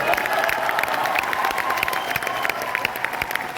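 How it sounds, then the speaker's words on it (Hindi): Hearty applause from a seated audience at a speech event, dense continuous clapping with scattered individual claps standing out, steady throughout the clip without talking over it. "मैं चाहूंगा उनके लिए एक जोरदार ताली होनी चाहिए।"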